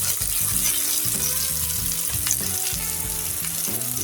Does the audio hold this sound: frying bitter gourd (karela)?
yes